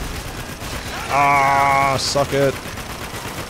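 A mounted turret machine gun fires in Spec Ops: The Line, one loud sustained burst followed by a couple of short bursts, with a voice speaking briefly over the shooting.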